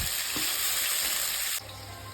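Food frying in a pan with onion, tomato and garlic, a loud continuous sizzle that eases slightly near the end.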